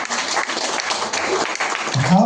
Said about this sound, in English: Give a big clap for him.